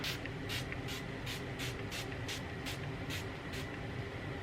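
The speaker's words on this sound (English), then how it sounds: "So just going to spray a few spritzes." A series of about ten short, crisp spritzes from a perfume bottle, evenly spaced in a steady rhythm over a low background rumble.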